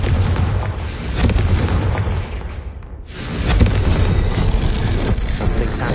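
A heavy, roaring explosion from the Confringo fire spell in Hogwarts Legacy, a dense booming rumble that briefly dips and then surges again, loud and close, with no talk over it.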